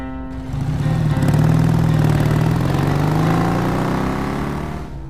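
A motorcycle engine rumbles steadily and loudly for several seconds, a low, throbbing drone that swells slightly as it revs, then fades a little at the end, heard alone with no voices.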